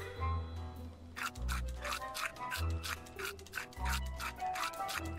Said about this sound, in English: Clean them teeth.